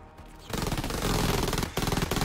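Soldiers firing rifles at bugs in the game Silica, rapid bursts of gunfire starting after a short quiet lead-in, with one brief pause before the shooting resumes, loud and with no talking.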